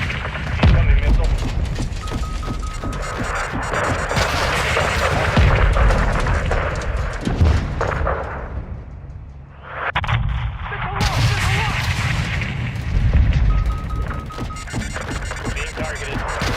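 Incoming missile strike and gunfire in Call of Duty: Modern Warfare II, with booming blasts and rattling shots rolling on almost without pause, briefly thinning before the barrage swells again; voices talk underneath.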